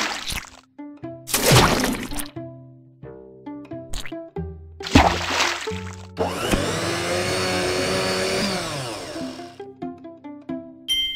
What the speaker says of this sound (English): Put 7 pieces of carrot into the blender.